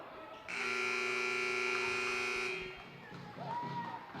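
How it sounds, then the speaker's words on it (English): A basketball game buzzer sounds during a boys' high school tournament game, St. Mary's against Bishop Feehan, ending the period with one loud, steady electronic blare lasting about two seconds over crowd noise, followed by gym murmur. "That was the buzzer ending the period."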